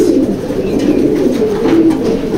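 A pigeon coos nearby in soft, low, repeated throaty calls, steady and fairly loud throughout.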